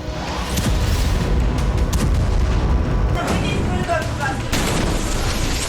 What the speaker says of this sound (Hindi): ये फैब 500 का धमाका था।